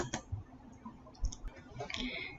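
A few soft, isolated computer mouse clicks sound while someone sets up a gift card product in a Shopify store. The clicks are quiet and close, with no talking.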